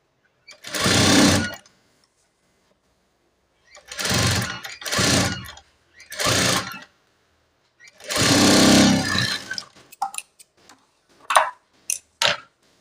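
Sewing machine stitching a plain blouse, running in several separate bursts of a second or so with pauses between, then a few short taps and clicks as the work is turned.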